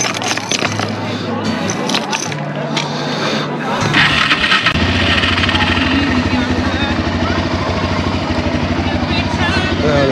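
Suzuki LTZ 400 sport quad engine starting outdoors: rough scraping cranking and sputtering at first, then the motor catches and settles into a steady, loud, close idle rumble.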